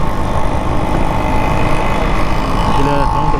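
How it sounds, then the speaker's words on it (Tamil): An auto rickshaw engine runs amid Chennai street traffic, a steady mid-range motor drone blended with dense, continuous road noise at even loudness for the whole stretch. "ஆட்டோ சவுண்டு கேட்குது"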